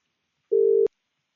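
A single steady telephone tone rings out for about a third of a second, clean and alone against silence, as a call is placed to an AI voice agent.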